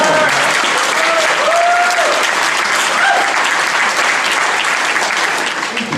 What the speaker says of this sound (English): Come on, give him a round of humiliation applause.